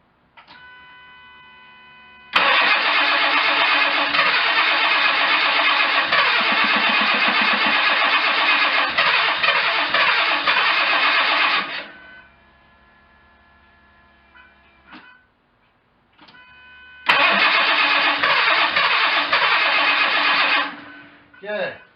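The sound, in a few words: 1987 Jaguar engine cranking, attempting first start in 4 years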